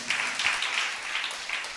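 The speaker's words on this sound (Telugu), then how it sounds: "కొట్టండి చప్పట్లు." Church congregation clapping during a pastor's sermon, a steady patter of many hands over just under two seconds, moderately loud and fairly even, with no talk.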